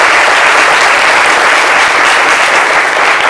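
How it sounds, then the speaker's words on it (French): Loud, close studio audience applause on a midday French-language talk show, a dense, even roar of clapping hands filling the whole short stretch without pause. "Vos applaudissements pour..."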